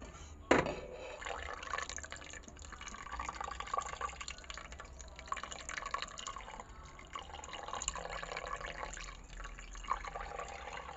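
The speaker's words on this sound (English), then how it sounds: "It's time to add in the evap milk." Evaporated milk poured into a mixed batter or mixture, a faint, continuous liquid pouring and trickling sound after a brief sharp knock at the start.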